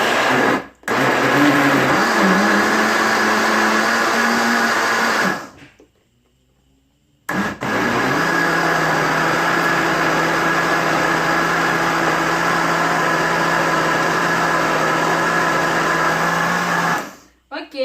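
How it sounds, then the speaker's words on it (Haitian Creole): A loud, steady whir of a blender motor making juice runs continuously, cutting off briefly for a second or two before starting up again. "nous allons blender jus"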